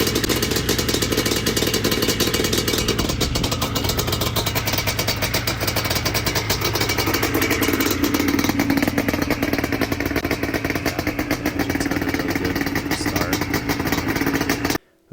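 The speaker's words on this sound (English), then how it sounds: "First start after rebuilding the whole engine." A rebuilt Yamaha Banshee ATV engine fires up for its first start, running loud and steady with a rough two-stroke clatter and rapid popping pulses that stay close and constant throughout before cutting off abruptly at the end.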